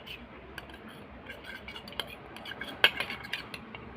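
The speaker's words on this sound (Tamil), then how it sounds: "இது 4 பொருளை வச்சு நம்ம நல்லா கலக்கிக்கலாம்." A spoon clinks and scrapes against a bowl while stirring a face pack of rice powder, curd and turmeric, with light irregular taps growing busier toward the end.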